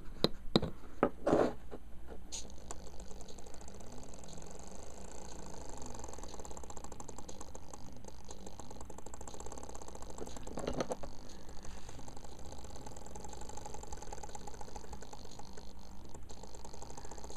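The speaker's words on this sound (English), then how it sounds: "So both the stepper motors are moving." Two stepper motors, one a floppy-drive motor, driven by an Arduino UNO make faint rapid clicking and ratcheting, with a few louder ticks at the start, a steady mechanical buzz and no speech.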